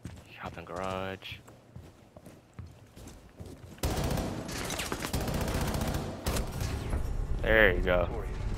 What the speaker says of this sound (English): It's just like an LMG, but there's no recoil.